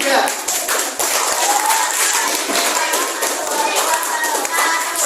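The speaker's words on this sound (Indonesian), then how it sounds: "tepuk tangan untuk kelompok 3" Students in a classroom clap for a presenting group, a close, loud patter of hand claps with sharp individual hits, while children's voices mingle underneath.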